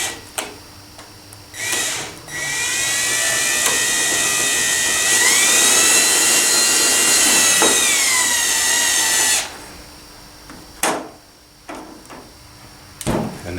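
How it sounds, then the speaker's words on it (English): A small power drill bores holes into a Walthers 12-stall model train roundhouse, the drill resting on a ruler; one steady high whine of about seven seconds rises slightly in pitch midway, with brief handling clicks before and after. "So I just put the drill on top of the ruler"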